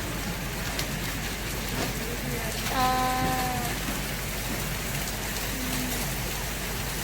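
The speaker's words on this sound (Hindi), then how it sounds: "कितने बड़े बड़े ओले पड़ रहे हैं।" Heavy rain with hail falls steadily in a dense, continuous hiss throughout, the pelting sounding close and even, with a brief tonal whine partway through.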